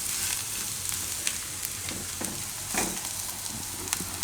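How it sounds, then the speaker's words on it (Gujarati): Gram flour roasting with onion in a hot pan on lowered heat, stirred with a spoon; a steady close sizzle with scraping strokes and occasional louder stirring bursts, no voices. "તો અડધી મિનિટ માટે એને ફેરવશું એટલે એકદમ લોટ શેકાઈ જાય"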